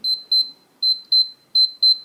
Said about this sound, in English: you're going to hear a long beep and see a green flash here